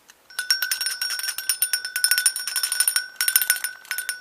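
A hand bell with an antler attached rings up close in quick repeated bright dings, a rapid irregular series of metallic strikes with a short break near the end, and no talking.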